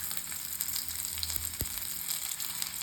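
Patted mutton vadas frying in a little oil on a dosa pan, a steady close sizzle with a low hum and a couple of brief knocks partway through.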